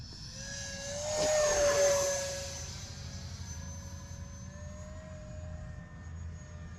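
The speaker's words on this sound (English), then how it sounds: "I love this jet." An Arrows RC Viper 50mm EDF model jet flying past outdoors, its high ducted-fan whine swelling as it passes close, peaking, then settling into a steady distant whir with a falling pitch.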